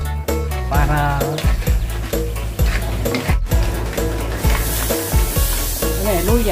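Crab sizzles and crackles in a hot frying pan while being stirred, with loud bursts of spatula scrapes and clatter over a constant fry hiss.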